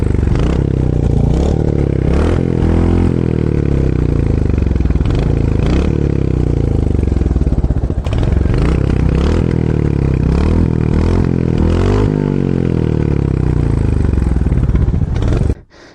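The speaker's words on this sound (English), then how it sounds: "let you listen this exhaust sound." A Royal Enfield Hunter 350 motorcycle exhaust rumbles loudly up close, revving again and again in deep surging bursts, with some rattling clatter and no talking.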